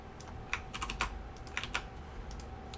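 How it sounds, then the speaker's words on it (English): Keys clack on a computer keyboard in a few quick, light clusters of taps, close but quiet over a faint background hum. "type OK with 3 Ks"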